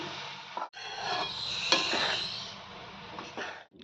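Boiled rice is stirred into vegetable pulao in a pot, with close scraping and clinking of a spoon against metal in a few short strokes, separated by brief gaps.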